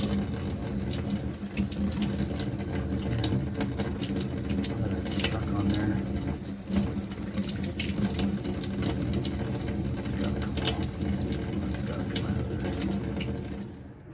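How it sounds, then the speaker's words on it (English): Running tap water splashes steadily from a kitchen sink faucet while an old, damaged spout aerator is rinsed under the stream, a continuous close hiss with faint handling clatter. "Take it, rinse it off."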